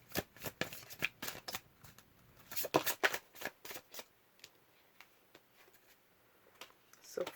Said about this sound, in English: I'm going to go ahead and pick a card for you.